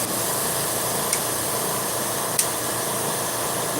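An air compressor runs with a steady, loud broadband hiss and hum throughout, marked by two faint brief clicks.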